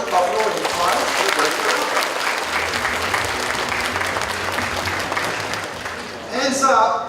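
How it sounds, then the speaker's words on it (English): An audience applauds at a business talk, a sustained round of clapping filling the room for several seconds before tapering, with a brief burst of louder cheering near the end. "I want you guys to give these guys a round of applause."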